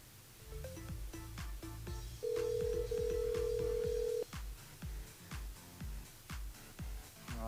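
A phone line rings out during a radio show call to a listener, a steady repeating ring pattern with one long held tone in the middle, alone and fairly clear.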